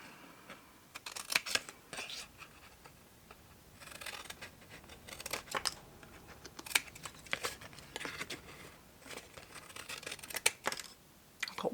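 Scissors snip and trim paper for a small no-glue gift box, crisp clustered cuts coming in irregular bursts with short quiet gaps, close and fairly soft.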